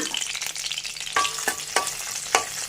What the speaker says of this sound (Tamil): ஸோ இதை நல்லா நம்ம என்ன பண்ணுறோம் வறுக்க போகிறோம்